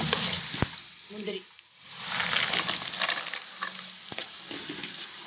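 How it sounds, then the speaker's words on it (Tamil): Cumin, green chili and ginger frying in oil in a pan for ven pongal, a close steady sizzle with a couple of sharp clicks of a spoon against the pan and a voice talking over it. "ஜீரகம் போட்டிருக்கிறேன். ஜீரகம் கொஞ்சம் செவக்கட்டும்."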